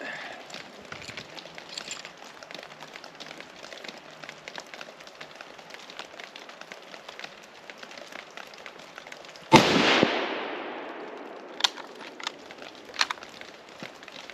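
A single M1903 Springfield bolt-action rifle shot fired outdoors, one sharp loud crack with a trailing echo, preceded by a long stretch of quiet background noise and followed by faint small knocks.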